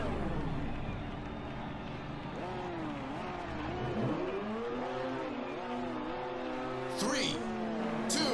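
In the racing video game Ridge Racer 7, the default Kamada Fiera car revs with a rising and falling engine whine that sweeps up and down in pitch, ending in sharp high-pitched bursts while a voice talks faintly beneath.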